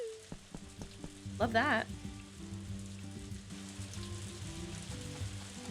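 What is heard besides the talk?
rain falling in a video game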